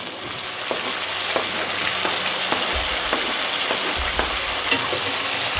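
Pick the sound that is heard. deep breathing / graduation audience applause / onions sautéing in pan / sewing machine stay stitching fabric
onions sautéing in pan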